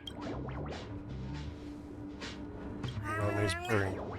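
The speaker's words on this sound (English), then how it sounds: "He's purring." A cat in Honkai: Star Rail gives soft, close purring and meow-like vocal sounds that swell near the end, with game music and a voice underneath.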